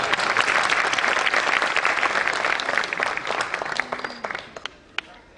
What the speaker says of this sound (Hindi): लेकिन ये तालियां तो तब तक हम सुनेंगे, कब तक?